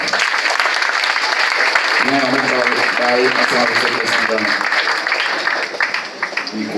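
Wedding guests applaud steadily, a dense wash of clapping that lasts the whole stretch, with someone speaking over it partway through before the clapping thins at the end.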